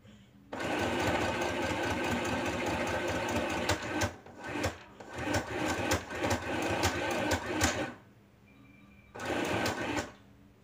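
A YOKO YK1803 mini portable sewing machine runs a large straight stitch through single-layer denim, whirring loudly and steadily, pausing briefly near the middle, stopping again, then starting up for a final short burst.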